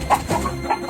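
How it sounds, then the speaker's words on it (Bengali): Several chickens cluck loudly and excitedly in a cartoon henhouse as a witch enters, with repeated short squawks close by and no talk. "তাকে দেখে মুরগিগুলো খুব জোরে জোরে ডাকাডাকি করতে শুরু করে"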